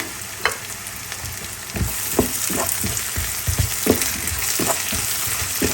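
Diced potato fries with onion and garlic in a pan, a dense continuous sizzle broken by repeated sharp scrapes and taps of a spatula stirring close by.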